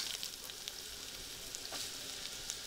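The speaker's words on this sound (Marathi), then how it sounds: "ही फोडणी झाल्यानंतर ह्याच्यामध्ये घालूया कैरी." Raw mango dropped into hot oil tempered with mustard seeds, cumin and asafoetida, giving a steady, fairly quiet sizzle with a few brief crackles and no talking.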